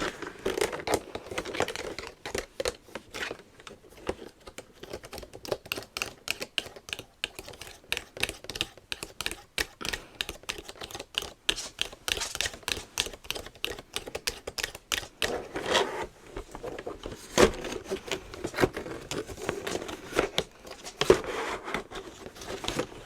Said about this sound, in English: when you have to set the game up, you have to poke all the little cards out